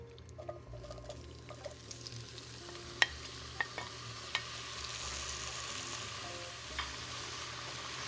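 Tomato, garlic and onion sautéing in oil over medium heat, a quiet steady sizzle with occasional sharp pops and light stirring clicks, fairly faint and close, no talking.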